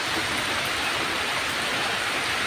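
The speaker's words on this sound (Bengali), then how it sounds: "বৃষ্টি পড়ছে কীরকম ঝরঝর করে" Heavy rain pours down in a steady, dense hiss that stays loud and even throughout, with no voices or other sounds breaking through.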